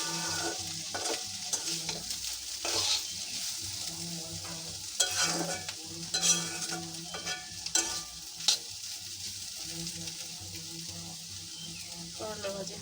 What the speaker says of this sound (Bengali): এই যে আমি রান্না শুরু করে দিয়েছি। এটা হচ্ছে করলা ভাজি,